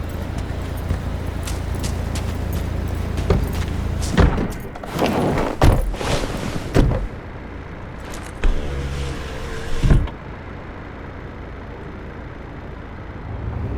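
In Cyberpunk 2077, car doors thump shut and a vehicle engine hums and rumbles, with several heavy close thuds over a steady motor drone.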